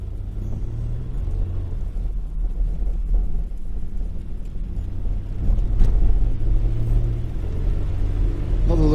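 A 2000 Toyota Estima G-Spec V6 AWD braking hard to test the ABS, heard from inside as a loud, steady low rumble of road and engine noise with slight surges.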